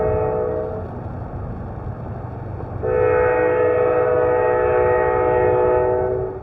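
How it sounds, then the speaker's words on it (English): An Amtrak GE P32-8BWH Dash 8 diesel locomotive in Indianapolis sounds its horn in two loud, sustained blasts, the second longer, over a low engine rumble. "Today I'm filming one of Amtrak's Dash 8 locomotives in Indianapolis."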